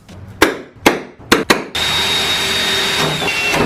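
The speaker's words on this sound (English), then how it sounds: "we have got to drill out these holes for all the hardware" Several sharp percussive bursts ring out at irregular intervals, then a steady loud whirring drill grinds continuously through metal, close by, drilling hardware holes in a car hood.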